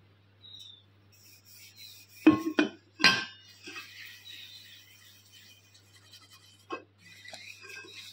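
A metal pot is scrubbed by hand with homemade pitambari cleaning powder and a little water, giving close, brief clanks and scraping knocks in a short cluster, with softer rubbing and quiet stretches around them.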